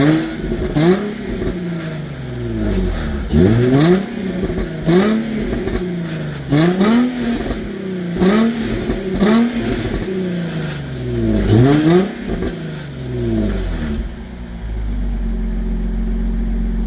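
A 2005 Infiniti G35 sedan with a 6-speed manual revs its engine repeatedly, each blip rising sharply and falling back toward idle in a steady series of close, loud pulls, then settling to a low idle near the end.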